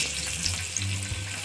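Cumin seeds and green chillies hitting hot oil in a pan set a dense, loud sizzle going, with a burst of spitting and stirring scrapes over a brief stretch, heard up close and without talking.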